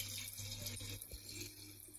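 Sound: lukewarm water being poured into black carrot kanji

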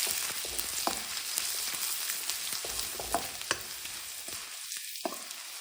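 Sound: frying chopped garlic and ginger with asafoetida in hot oil

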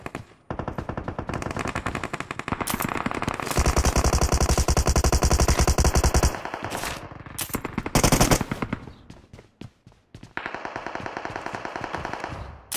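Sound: gunfire in a video game

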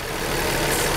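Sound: 2006 Quest V6 3.5 liter engine running

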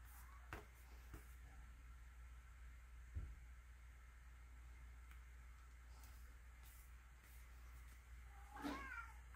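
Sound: cat meowing

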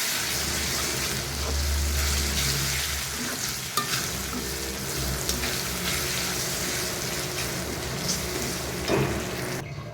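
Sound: pouring water into frying spice masala for koi fish

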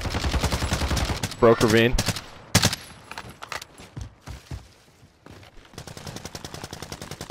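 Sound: gunfire in a video game

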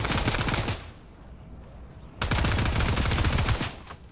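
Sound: rapid-fire SMG gunfire in a video game

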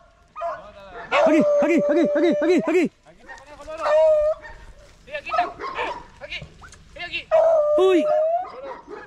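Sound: hunting dogs barking, greyhounds, beagles

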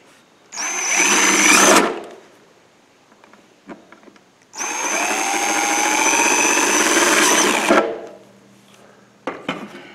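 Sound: power drill drilling holes in coffee can

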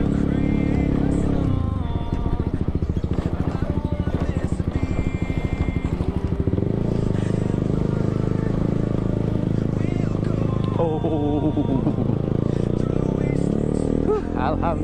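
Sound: traffic jam on a road in Pasar Kemis, Tangerang

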